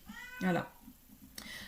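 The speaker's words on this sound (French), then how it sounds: "C'est mon chat qui miaule." A house cat lets out a single short meow close to the microphone. Soft speech and a brief click are also heard.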